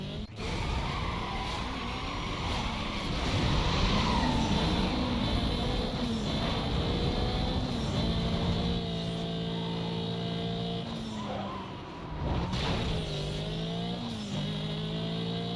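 A VW Golf's engine roars in the racing game Need for Speed Most Wanted, revving hard through rising gear pulls, with tire skids and whooshing road noise at a loud, continuous level.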